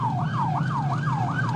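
A police car siren wails during a chase on an Oklahoma road, its pitch sweeping up and down in a steady, repeating cycle, loud and continuous over a low engine rumble, with no voices.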